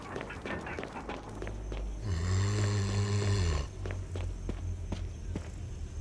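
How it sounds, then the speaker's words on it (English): In the Resident Evil Remake video game, a zombie lets out a low, drawn-out groan for about a second and a half amid steady footsteps and a faint background hum. "I distinctly heard a zombie."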